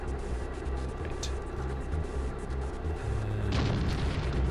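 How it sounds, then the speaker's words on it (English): An explosion in FDNY Firefighter: American Hero, a low heavy rumbling roar building under steady game noise, with a sharper burst of crackling blast near the end. "Well, so much for preventing an explosion."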